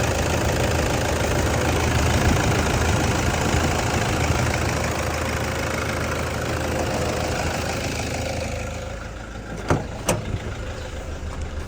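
A dump truck's diesel engine idles loud and close with a steady rumble that settles and quiets near the end, broken by a couple of brief knocks.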